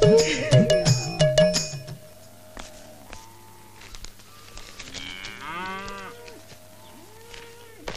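Cattle and buffaloes moo repeatedly at moderate distance, several drawn-out calls overlapping, while a loud burst of other noise opens the scene and a steady low hum runs beneath.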